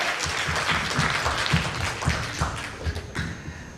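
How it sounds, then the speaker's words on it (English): A crowd at a golden jubilee reunion of IIT Kanpur's pioneer class of 1965 gives a dense, steady round of applause that fills the whole stretch without a break. "give them a good round of applause"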